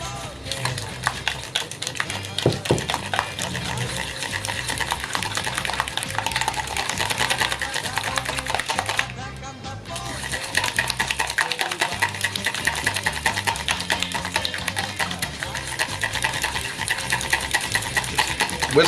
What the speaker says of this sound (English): Whisk as fast as you can.